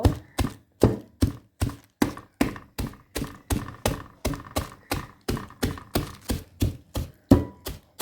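Bela biscuits crushed into crumbs for coating, heard as a steady series of about two dozen evenly spaced heavy thuds and crunches, close and loud with no talking.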